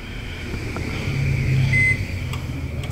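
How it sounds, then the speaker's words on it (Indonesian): A microwave oven heats a dish of tteokbokki, its steady hum rising slightly as it runs, with a brief beep near the middle and some faint clatter. "Nah, kita masukin ini microwave"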